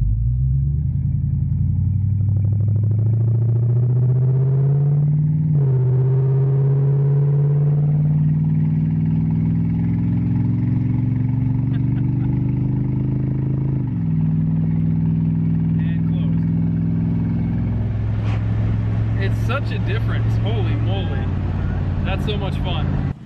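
A Buick Roadmaster wagon's V8 rumbles loudly through open exhaust cutouts, its deep engine note rising and falling through repeated revs and gear changes, close to the mic with some wind buffeting near the end.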